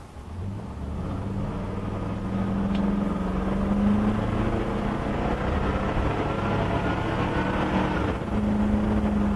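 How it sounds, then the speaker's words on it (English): A 2000 Damon Challenger 330 Class A motorhome with a Gale Banks exhaust and intake runs at full throttle on a highway on-ramp, a steady loud engine drone with road rumble throughout and no talk. "I'm just gonna give it full throttle and let you see what it's got."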